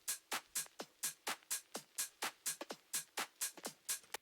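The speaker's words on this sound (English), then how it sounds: "It's a full house drum loop" House drum loop playing softly, a steady run of crisp, quickly repeating percussive hits with a bright top and short decays, faint throughout.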